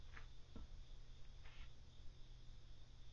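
Crickets chirping in the early morning, a few faint, short chirps spaced irregularly over a low, steady background hum in a quiet room.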